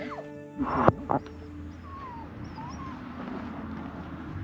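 Dogs reacting to a big-horned bull in rural Greece, a couple of brief sharp yelps and whines near the start, then fainter calls over a steady outdoor background.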